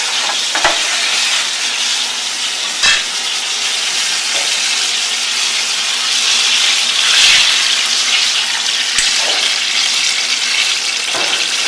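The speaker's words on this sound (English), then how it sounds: "Let them deep fry until they come back up" Apple beignets deep-fry in a fryer, making a loud, continuous bubbling hiss, with a handful of brief clicks and knocks scattered through it and no voices.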